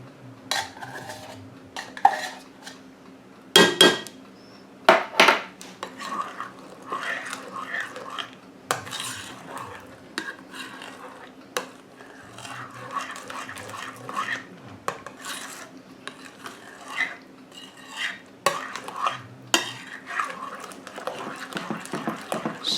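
Pumpkin pie filling with condensed milk and spices being stirred in a bowl, with irregular scraping and clinking of a utensil against the sides, close by, and occasional louder knocks.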